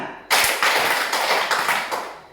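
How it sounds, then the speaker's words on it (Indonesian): A group of children clap their hands along with a robot-game instruction, a dense burst of many claps starting abruptly and continuing with a few pulsing swells, fairly close and loud, with no talking. "Robot berkata, tepuk tangan."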